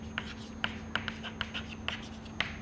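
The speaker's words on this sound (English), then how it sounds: "So let me write that down." Marker or chalk writing out equations during an engineering lecture on ill-conditioned equations, a run of short scratchy strokes and taps at an even pace, fairly faint over a steady low room hum, no talking.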